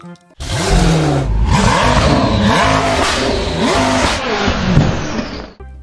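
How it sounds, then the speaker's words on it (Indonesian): A toy race car's engine revs loudly and continuously for about five seconds, whirring and rising in pitch before cutting off abruptly. "Di sini ada mobil balap."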